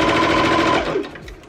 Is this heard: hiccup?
no